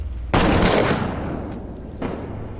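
Gunfire from a crime film: a loud burst of rapid shots with a sharp metallic ring, followed by a single trailing shot after a short pause, close and alone without speech.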